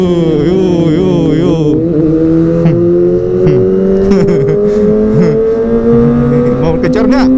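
A Kawasaki ZX-25R motorcycle with a Prospeed Shark Black exhaust screams at high rpm, its loud four-cylinder wail climbing steadily and close, with talk mixed in.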